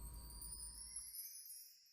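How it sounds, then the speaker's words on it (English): Bright, sustained chime tones ring high above a low rumbling bed that cuts out midway, leaving the shimmering chimes to sustain and fade alone. "So these are the chimes, they just sound like this."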